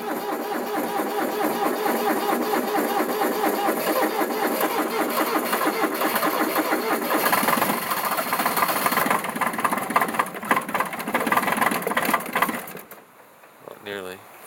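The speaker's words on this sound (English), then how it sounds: "So this is Kubota tractor cold start." A Kubota B1-15 tractor's small diesel engine runs after a cold start with a loud, rattling, close clatter that holds steady for about twelve seconds before cutting off abruptly near the end.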